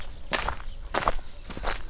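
Three distinct footsteps of people walking, heavy and fairly close, spaced in a slow steady rhythm with soft rustle between, on a path approaching a village arch.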